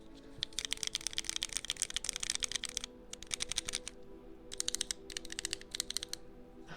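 Someone types on a computer keyboard right next to a 3Dio binaural microphone. Soft, rapid clicks come in bursts separated by short gaps, with no talking.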